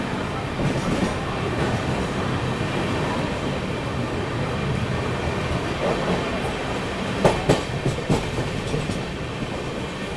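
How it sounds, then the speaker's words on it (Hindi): The LTT Mumbai Bhopal superfast express picks up speed, a loud continuous rumble of wheels on track heard from inside, with rhythmic clicks and a few sharp knocks near the end. "ये देखो अभी स्पीड अप हो गई ट्रेन बढ़िया।"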